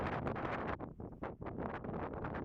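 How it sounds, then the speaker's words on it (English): Strong, gusty wind buffets an outdoor microphone in Scotland during the windy tail of Hurricane Ernesto. It comes as loud, continuous rumbling roar with rising and falling surges and two brief lulls, and no one speaks. "the winds make it really difficult to be outside, especially for me when I'm painting or photographing or filming"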